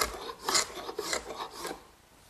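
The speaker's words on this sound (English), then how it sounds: "The glue for the top is now dry, and the excess is removed just using a hand scraper." Rasping scrapes of a hand scraper clearing dried excess glue off a wooden tabletop, several short strokes in a row, close and moderately quiet with no talk.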